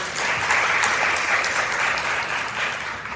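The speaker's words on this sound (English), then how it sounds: "Can we clap it up for policy justice?" Audience applause at a Metro United Way speaking event, a dense, steady clapping of many hands held at an even level for several seconds with no talk over it.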